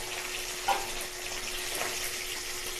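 Hilsa fish head frying in hot oil in a home kitchen, a steady close sizzle and crackle with a brief louder spit near the start, no talking.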